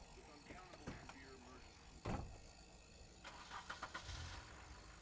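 A car engine starts and turns over in The Walking Dead video game, quiet and somewhat distant, with a sharp mechanical burst partway through followed by a few short revving pulses.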